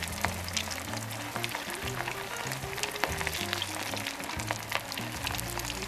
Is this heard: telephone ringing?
no